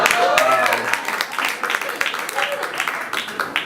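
An audience claps and applauds at a live storytelling event in San Francisco. The dense, steady clapping fills the space throughout, with a speaking voice heard over it.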